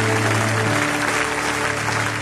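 A church congregation applauds and cheers in acclaim of the Lord's name, a steady, dense wash of clapping and crowd noise filling the room throughout.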